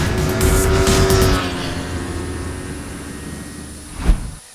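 A Kawasaki Ninja motorcycle engine roars loudly on a race track, then fades as it pulls away, followed by a brief sharp thump near the end.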